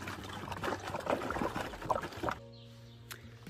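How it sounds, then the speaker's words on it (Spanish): A litre of water is poured into a homemade plant pesticide, giving a steady close splashing pour that stops partway through, leaving a faint hum and small clinks afterward. "como nosotros hemos hecho un litro de insecticida, pues ahora primero le agregamos un litro de agua"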